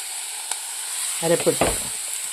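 Shallots, banana flower, crushed ginger and garlic, curry leaves and green chillies sauté in a pan with a soft, continuous sizzle, while a voice talks briefly over it.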